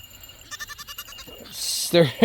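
Goats in a back pasture bleating, a rapid run of short wavering bleats followed by louder drawn-out calls nearby, with some background noise.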